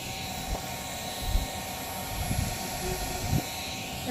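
Small mini electric fan running at full speed, a continuous airy whoosh with a faint steady whine, close and even, with a few soft handling bumps.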